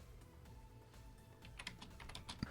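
Light typing on a computer keyboard while writing a program, a quiet stream of soft key clicks that grows a little busier toward the end, with no talking.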